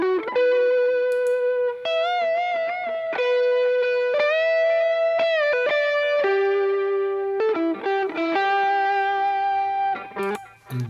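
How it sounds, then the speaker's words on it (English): An ampless electric guitar rig with reverb and delay plays a sustained, singing melodic line. Long held notes bloom and slide into one another, and a washy tail lingers between phrases, loud and alone. "listen to the difference that the reverb brings in"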